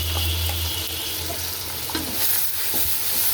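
Fried rice seasoned with black salt, pepper and tasting salt sizzles in a pan while being stirred and tossed, a continuous close frying hiss broken by scraping and clinking of the utensil.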